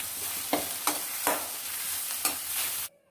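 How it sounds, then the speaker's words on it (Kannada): Fenugreek (methi) leaves fry in oil in a pan, a steady close sizzle broken by about five sharp spatula stirring strokes before cutting off abruptly. "ಈ ರೀತಿ ಒಂದು 10 ನಿಮಿಷ ನಾವು ಚೆನ್ನಾಗಿ ಈ ಥರ ಫ್ರೈ ಮಾಡ್ಕೋಬೇಕು"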